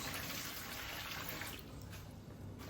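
A quart of water is poured into a mixing bucket before tile mortar is added, making a steady, close splashing rush that eases off partway through, with no talking.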